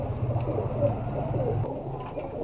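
Fakir Gul pigeons coo in a low, steady, throaty murmur, several birds rolling their calls together at close range, then the cooing drops away near the end.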